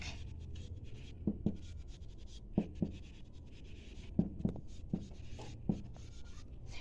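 Numbers being written on a board during a maths lesson, a series of short tapping strokes and scratches arriving in small clusters, close and distinct over a low background hum, without speech.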